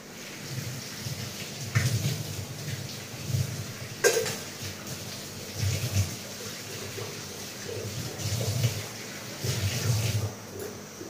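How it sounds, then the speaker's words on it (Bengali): Rain falls steadily outside a home as a continuous broadband hiss, with a few louder swells. "বৃষ্টি চালু হয়ে গেছে গো, বৃষ্টি চালু হয়ে গেছে"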